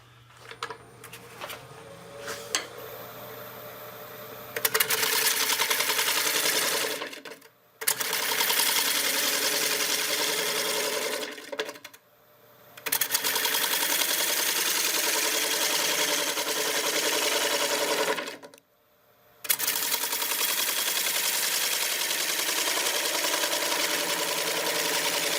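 A right angle sander sands the inside of a turned wood bowl, coming on in loud, sustained bursts of high whirring grit noise, with three short pauses where it stops before starting again.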